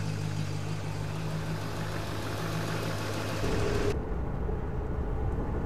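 A 1971 AMC Ambassador Brougham engine idles with a steady low hum and faint knocking rhythm, continuous and moderately close, before the tone shifts and thins near the end.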